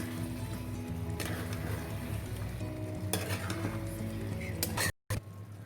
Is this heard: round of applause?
no